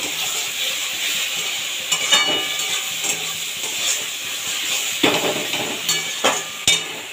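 Masala and salt frying in a pan for a Bengali mustard-based fish curry, a steady sizzle with scattered stirring scrapes and a few sharp utensil clinks, close and alone.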